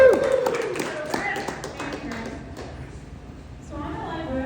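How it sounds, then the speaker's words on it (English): An audience claps for a few seconds, the applause loud at first and thinning out, with a voice speaking over it. "applause for Damaris, everybody."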